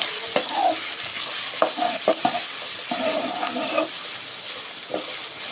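Chopped onion goes into hot oil in a pan for coriander chutney, giving a steady sizzle broken by clinks and scrapes of stirring, close and fairly loud with no voices.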